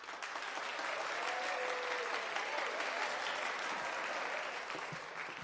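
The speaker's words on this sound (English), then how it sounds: "Give her another round of applause," A cartoon audience breaks into steady, sustained applause, a dense even clapping that fills the whole stretch without pause.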